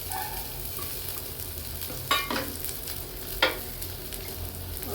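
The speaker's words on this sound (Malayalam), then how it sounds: "നമുക്ക് പച്ചമുളക് ഇട്ട് കൊടുക്കാം കേട്ടോ." Green chillies, ginger and curry leaves frying with browned onions for a Kerala mussel fry, giving a steady close sizzle with a couple of sharp stirring scrapes.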